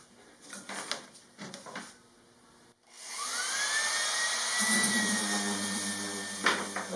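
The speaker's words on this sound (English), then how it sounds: "Do a little bit of sanding." Power sander working a van ceiling panel, a steady close whine that starts after a few light knocks and handling sounds and holds for several seconds.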